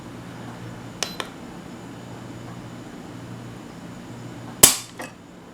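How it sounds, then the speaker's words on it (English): An STI Guardian 9 pistol gives a pair of quick light mechanical clicks, then a sharper metallic snap of the trigger and hammer a few seconds later, close up in a quiet room. "let's see what kind of trigger pull we get"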